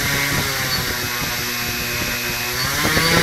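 A small motor drives a propeller at full throttle in a shed, a steady loud buzzing drone with a rough, slightly pulsing edge that swells a little toward the end, with no one talking.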